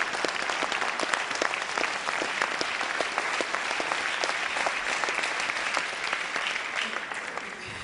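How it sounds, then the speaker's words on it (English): Dense, steady clapping from an audience at a book launch in Port Elizabeth, sustained at an even level for several seconds with no talk over it. "let's give them a big round of applause because they've believed in this project"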